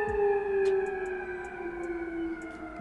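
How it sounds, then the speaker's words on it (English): A wailing siren holds a steady tone, slowly sliding in pitch, with faint chirps dotted above it and no talking. "I heard that sirens and shit in the background"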